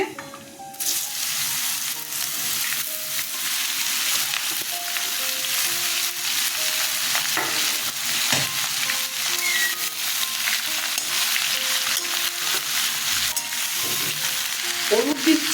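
Chopped ash gourd sizzles and crackles steadily in hot oil in a pan, a dense continuous frying hiss with occasional stirring clatter throughout, close and fairly loud.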